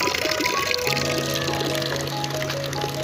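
Fresh mineral water running from a public drinking fountain in a park in Italy: a continuous pouring splash with a steady tonal hum and faint background noise throughout.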